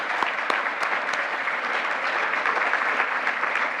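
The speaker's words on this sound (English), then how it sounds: "Let's hear a round of applause for all of the high school teachers honored here this evening" An audience at the Golden Apple Awards gives a round of applause for honored high school teachers, a dense, even crowd clapping that holds steady throughout.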